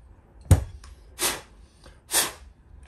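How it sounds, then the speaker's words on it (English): An aerosol can sprays an oily RC helicopter tail part in three short hissing bursts, close and moderately loud, with brief pauses between them. "I will give this a spray."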